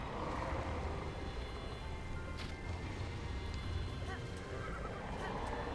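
Horse neighing and hoof clip-clop from the video game Zelda: Breath of the Wild, a steady dense game soundscape held at a constant level for the whole stretch, with no clear break or gap in the sound.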